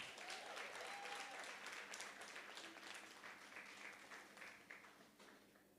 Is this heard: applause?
yes